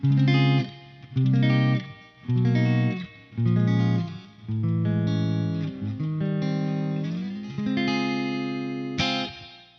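A bright, crisp clean electric guitar plays through a Peavey Prowler amp with a Sheffield 1230 speaker and the bright switch engaged, the first few chords short and punchy, then longer ringing strums, with no voices.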